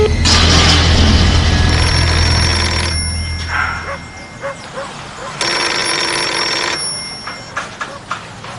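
A telephone rings repeatedly in an indoor scene from a drama series, loud electronic trills in bursts with pauses between them, heard alongside the people speaking.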